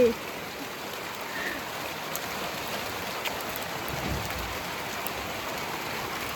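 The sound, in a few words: rain falling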